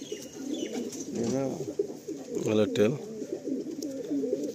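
A spirited pigeon coos in low, rolling bursts close by, with someone talking over and between the calls.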